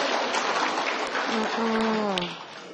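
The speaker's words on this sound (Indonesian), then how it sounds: "Tepuk tangan dong." A crowd claps in a brief burst of applause while a voice speaks over it, at a Ramadan gathering on the Nuzulul Quran night.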